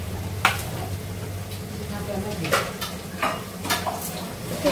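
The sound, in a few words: frying and stirring spice paste with small shrimp in pan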